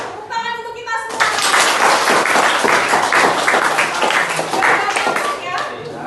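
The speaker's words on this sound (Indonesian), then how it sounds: "Tepuk tangan untuk kita semua." A group of children and adults in a classroom-style session clap loudly together after a clap-along song, dense and close, with a voice heard briefly at the start and chatter mixed in under the clapping.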